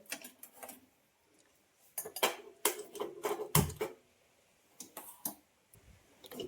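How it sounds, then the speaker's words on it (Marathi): Heavy metal clanks and knocks as a heavy kadhai is set on a gas stove, a few sharp impacts with short pauses, one especially loud thud near the middle, no talking. "आता ही ठेवते कढई मी"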